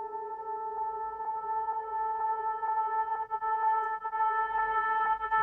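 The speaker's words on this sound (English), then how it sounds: "For the vocals, I'm slowly filtering in this vocal chop" A processed vocal chop sample slowly filters in, giving a sustained, steady harmonic tone with faint rhythmic pulses repeating roughly every half second, smooth and continuous with no talking.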